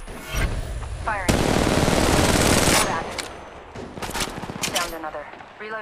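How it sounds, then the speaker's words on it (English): Automatic gunfire in the mobile battle game Apex Legends Mobile rattles in dense loud bursts, with a long sustained volley in the middle and shorter bursts after, mixed with game sound effects and voice lines. "Firing."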